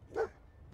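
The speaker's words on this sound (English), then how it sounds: "The best dog in the wasteland." Dogmeat, the dog companion in the video game Fallout 4, lets out a single short bark, close and clear, then faint game ambience follows.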